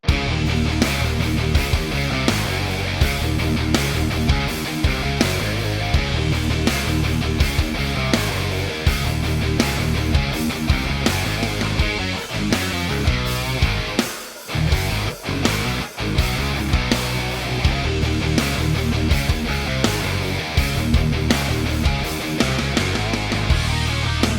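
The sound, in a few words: electric guitar rock riff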